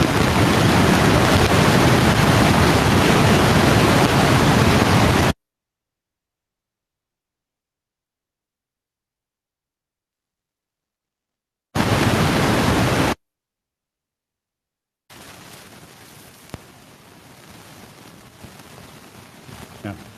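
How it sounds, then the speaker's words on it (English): Rushing river water playing as a steady broadband roar, cut off abruptly, returning for a short burst, then giving way to a quieter, softer stretch of flowing water. "Yeah, we wanted the sound of the river in there."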